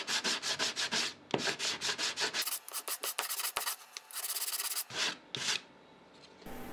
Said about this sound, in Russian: прохожусь метчиком